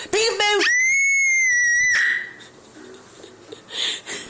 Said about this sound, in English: What you screaming for?